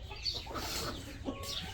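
A hen clucks in a few soft, close bursts on a farm, faint against a low steady background hum, with no one talking.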